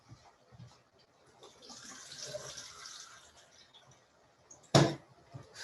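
Canned chickpeas rinsed under a running kitchen tap: a soft, steady stream of water hisses for a couple of seconds, followed by a sharp metallic clank near the end.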